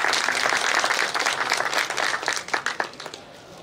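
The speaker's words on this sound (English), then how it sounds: "round of applause for Mr. Peter Coffey." A crowd applauds steadily for a few seconds, the clapping thinning out toward the end.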